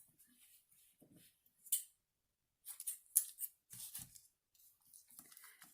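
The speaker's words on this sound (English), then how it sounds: "I would cut it off if I could find my scissors" Several crisp scissor snips cut through paper in short, separated bursts, close by in an otherwise quiet room.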